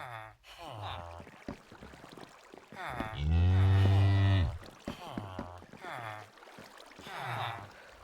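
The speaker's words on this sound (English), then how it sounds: "let's test it out with this cow first." A Minecraft cow moos once in the middle, a loud drawn-out low call standing out from faint game water and ambient sounds, with quieter blocky noises before and after.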